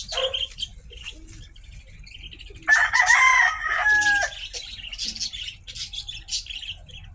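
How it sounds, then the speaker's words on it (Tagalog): A purebred Gilmore Hatch gamecock on a game farm crows once, a clear strained call lasting under two seconds, with softer clucks and chirps from other birds around it in a quiet outdoor setting. "Yan po, magandang manok"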